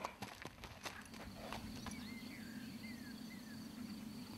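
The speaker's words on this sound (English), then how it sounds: "Together with Calm came Calin, a 20-year-old French trotter." Soft, fairly close hoof clip-clops from a 20-year-old French trotter with arthritis, irregular steps on firm ground, with faint chirping birds and insects in the background.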